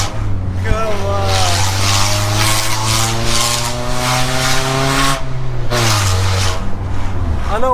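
A Honda Prelude 2.2 VTi, driven after sitting parked for five years and with a brake caliper needing repair, revs hard. Its engine tone climbs and falls in strong, close, loud sweeps with a brief drop midway.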